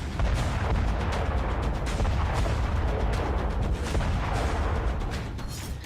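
Heavy weapons explosions thunder across the Tibetan plateau during a military exercise, a loud continuous roar of booms and rumbling blasts that runs throughout with no voices.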